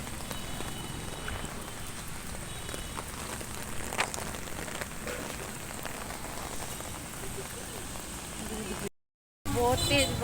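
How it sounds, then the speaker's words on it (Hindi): Heavy rain pours onto a flooded market street in Mani Majra, Chandigarh, a loud continuous hiss of drops and splashing water that cuts out briefly near the end, with voices talking faintly beneath it. "बहुत तेज बारिश आई, देखो पानी कितना भर गया रोड पर"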